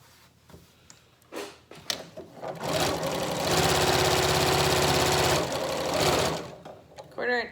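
A sewing machine stitches a quarter-inch seam on a Yup'ik qaspeq garment in a steady, loud whirring run of a few seconds. It starts with short bursts and ends with slowing clicks.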